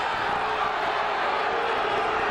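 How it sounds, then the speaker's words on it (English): An arena crowd of wrestling fans at a 1992 Penn State versus Iowa college match, with a steady, loud wash of booing and jeering that fills the space without a break. "The reason the fans are booing here is because Truby isn't doing anything"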